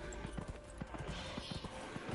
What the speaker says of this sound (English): I'm on my fucking finest horse